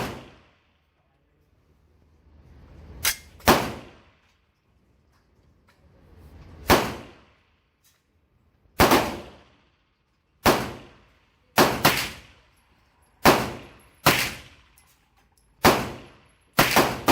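Carbine shots fired at 25 yards with Remington ammunition ring out as sharp, loud single cracks with short echoing tails, about ten shots spaced irregularly with quiet gaps between them.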